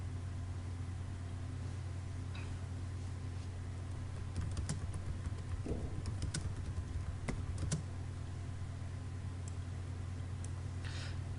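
Someone types on a computer keyboard at a desk, with sparse, faint clicks in a few short bursts over a steady low hum.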